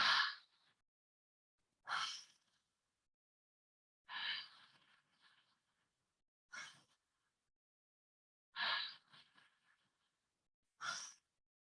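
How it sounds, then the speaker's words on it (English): Six deep breaths taken one after another during a group breathwork exercise, each a loud open-mouthed inhale or sighing exhale separated by short silences, close and clear with no talking. "We're going to do 3 breaths just to see how it feels."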